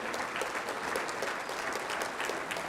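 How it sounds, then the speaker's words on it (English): Audience applause for a city council at a State of the City address in Colorado, a full, even wash of many people clapping steadily throughout. "if you would give them a round of applause again"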